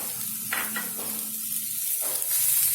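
Grated coconut is stirred into cooked broad beans (avaraikkai) in a hot pan, giving a soft continuous sizzle with a few brief scraping strokes of the spoon against the pan.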